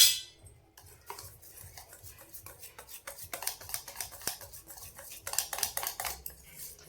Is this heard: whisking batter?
yes